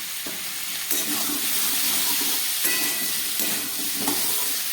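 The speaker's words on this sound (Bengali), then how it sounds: "এটাকে আবার খানিকক্ষণ আমি ভাজবো" Ground coriander, cumin and dry red chili powder frying in a pan for a fish-head chhyachra, giving a continuous close sizzle and hiss with a few scraping stirs.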